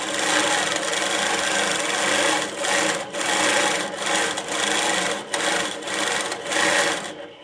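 A sewing machine runs steadily after its thread tension is backed off half a turn, a loud, continuous close-up whir with several brief pauses and restarts.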